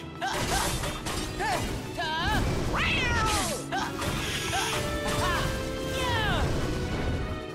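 A giant cat boss in the Kingdom Hearts Birth by Sleep video game meows repeatedly with rising and falling yowls over dense battle crashes, thuds and game effects, with a player talking over the action.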